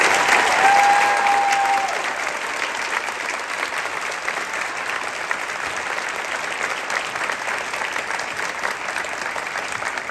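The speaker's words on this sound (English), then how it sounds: "Another round of applause for the next generation, ladies and gentlemen." An audience at a South Carolina senior all-state band concert applauds loudly with dense, continuous clapping that eases slightly after the first couple of seconds and carries on steadily to the end.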